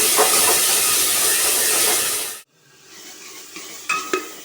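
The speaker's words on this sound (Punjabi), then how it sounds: "ਜਿਹੜਾ ਆਪਾਂ ਨੇ ਪਿਆਜ਼ ਵਗੈਰਾ ਗ੍ਰੈਂਡ ਕਰਕੇ ਰੱਖੇ ਸੀ ਉਹ ਪਾਵਾਂਗੇ ਤੇ ਇਹਨੂੰ ਚੰਗੀ ਤਰ੍ਹਾਂ ਭੁੰਨਾਂਗੇ" Ground onion paste for Punjabi kadhi hits the hot pan with a loud, steady sizzle that cuts off abruptly. A quiet stretch follows, with a few faint clinks and scrapes near the end.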